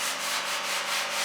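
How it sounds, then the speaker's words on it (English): Steady, continuous abrasive sanding on the outside of a Ford Escort Mk2 rally car body panel, a dense hissing rasp with gentle rhythmic swells as the sander sweeps back and forth, close up. "we have been sanding the outside"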